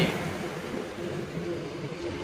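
A double-decker train rumbles past nearby, a steady low roar with faint rattling carriages, loud and continuous throughout.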